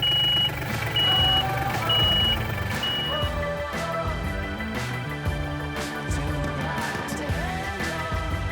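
A vehicle backs into a greenhouse with a steady series of high reversing beeps over a loud rumbling engine, close by and without voices.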